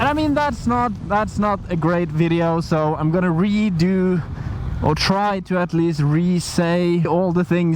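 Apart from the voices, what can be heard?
No everyday noises stand out.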